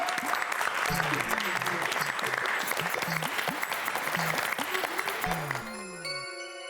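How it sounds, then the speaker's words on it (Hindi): A crowd at a surprise party in the Gokuldham society breaks into loud, continuous applause to welcome guests being honoured. Voices carry on over the clapping, which fades out near the end. "जोरदार तालियों से स्वागत करें।"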